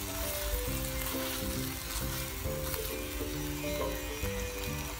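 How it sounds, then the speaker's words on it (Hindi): Minced keema frying in a pan with ketchup stirred in, giving a soft, continuous sizzling hiss beneath steady background music. "केचप डाल के अच्छी तरह इसको मिक्स करें"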